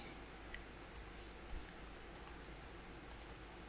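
Faint computer mouse clicks on a Check button, several light clicks, some in quick pairs, over a steady low background hum, with no talk.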